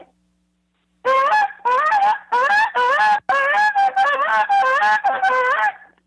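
A voice imitates a goose with a run of loud, close, nasal honks in short repeated bursts, several rapid squawks strung together with brief gaps, heard alone.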